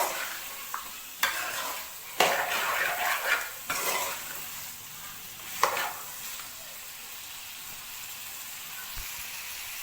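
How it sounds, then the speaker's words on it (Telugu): Chicken pieces frying in oil in a pan, stirred with a spoon: a low steady sizzle broken by several sharp scrapes and clinks of the utensil against the pan, close by, then fading back to quiet frying. "ఇప్పుడు ఆయిల్లో పెట్టుకొని బాగా తిప్పాలండి"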